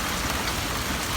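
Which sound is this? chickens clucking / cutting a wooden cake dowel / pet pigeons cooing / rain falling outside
rain falling outside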